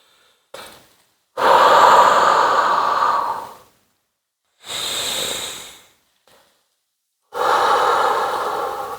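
Slow, deep breaths are heard during a mat Pilates exercise, each loud, close, airy inhale or exhale lasting a couple of seconds, with short silent pauses between three main breaths and no talking.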